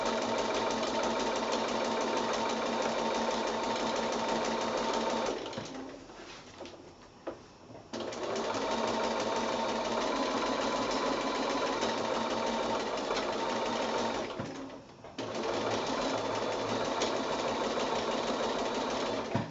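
A sewing machine fitted with a walking foot quilts steadily along a seam line, running in two long continuous stretches with brief pauses between them, close and fairly loud with no talking.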